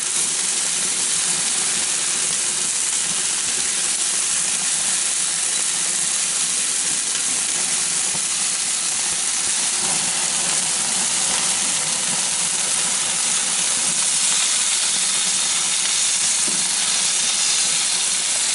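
Pork spareribs coated in barbecue sauce cooking on a barbecue, a continuous dense sizzling hiss that stays even and fairly loud the whole time.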